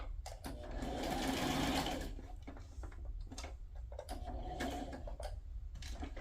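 A sewing machine stitches journal tags in short bursts of rapid mechanical whirring, pausing between runs with faint clicks and handling taps, close and clear.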